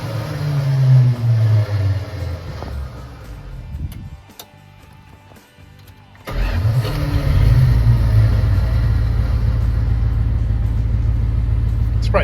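A Dodge club cab 4x4 truck with a tin grille rumbles loudly, drops to near silence, then cranks and fires up around the six-second mark, settling into a steady, heavy idle close by with no talking.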